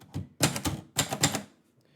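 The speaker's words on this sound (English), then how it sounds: "you should be able to see the typing happen" Close typewriter keystrokes from a poetry-writing session come in two quick clustered bursts of several clacks each, then fade to quiet.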